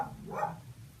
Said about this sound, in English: Quiet, dogs!